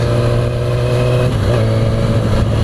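A Yamaha R6 sport motorcycle engine holds a loud, steady rev close up, with the pitch stepping up briefly partway through and no voices.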